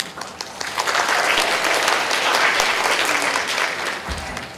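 A lecture hall audience at Asia University claps together, a full, even burst of applause that builds quickly and holds steady for several seconds with little talk.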